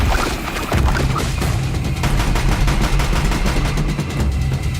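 In the video game Horizon Zero Dawn, a gun fires in loud, rapid bursts, close and continuous, with heavy impacts and booms layered underneath and no voices.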